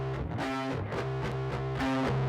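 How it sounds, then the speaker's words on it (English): A heavily distorted, buzzing synth tone plays a short repeating phrase, gritty and saturated, loud and up front. "And you get a wide distortion"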